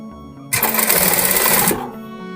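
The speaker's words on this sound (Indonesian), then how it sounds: "kita jahit sampai muter" A sewing machine stitches a fabric scrunchie in one loud, steady burst of rapid needle clatter lasting just over a second, close up, then stops and leaves a quiet hum.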